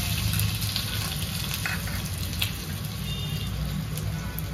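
Chopped ginger sizzles and crackles in hot oil with cumin and asafoetida, frying for a pakora tempering. The hiss is steady and close, with small pops and spits across the whole stretch and no talking.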